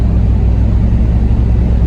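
A steady, loud race car engine rumble from Mk3 Toyota MR2s at a RaceWars half-mile event drones throughout, low and continuous with no voices.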